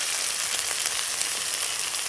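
Chopped tomato hits hot oil in a pan with ginger-garlic masala, giving a loud, continuous, even sizzle that holds without a break, with no voices over it.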